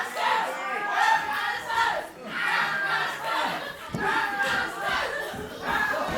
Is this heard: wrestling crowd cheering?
yes